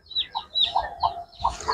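A lively breeding rooster of roughly 4 kg, recently dewormed, gives a quick series of short clucking calls, about five distinct bursts in under two seconds, close and fairly loud with no talking.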